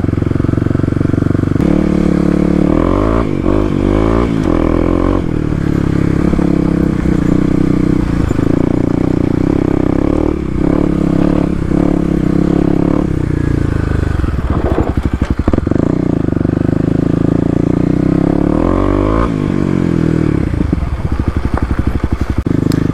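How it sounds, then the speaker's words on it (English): Kawasaki KLX250 dirt bike ridden at speed off-road over rough ground, its engine loud and close throughout, rising and falling with throttle changes amid rattles and scrapes from the terrain. "Trying to ride at a good speed so you guys can see how the bike handles the rough stuff."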